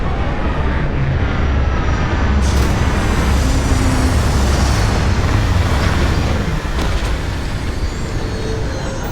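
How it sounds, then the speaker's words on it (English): A spaceship sets down in the Starfield video game with a loud, continuous roar of engine rumble and broad rushing thrust, sustained throughout with faint whooshing changes and no talk. "Captain, landing procedure initiated."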